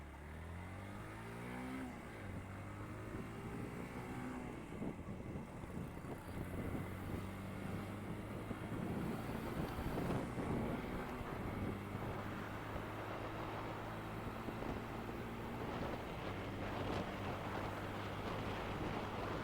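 A Yamaha FZ-S Hybrid motorcycle on a test ride, its engine holding a steady note with gear shifts and rising revs, accompanied by constant wind rush across the microphone.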